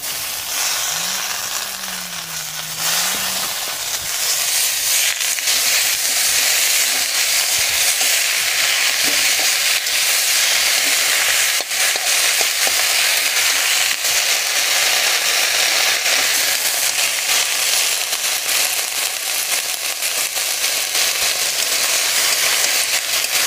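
Gourd stems from a home plant frying in a pan, a steady loud sizzle and hiss that fills the whole stretch with little change and no talk.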